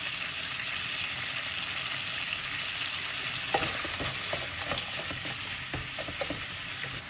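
Shrimp heads and shells crackle and sizzle steadily in a hot pan, with sharper pops and scraping stirs breaking through near the end; no voices.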